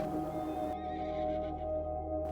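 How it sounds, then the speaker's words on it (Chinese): A horse sound effect: several horses neigh, giving a loud, close whinny that fades over about two seconds, over a steady bed of soft music. "几匹马"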